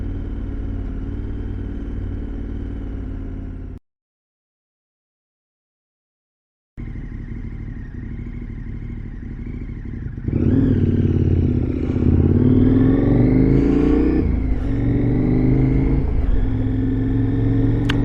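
A motorcycle fitted with an aftermarket Scorpion exhaust, baffles removed, idles with a loud, throaty rumble, cuts out briefly, then returns and revs up with a harsh, raspy roar.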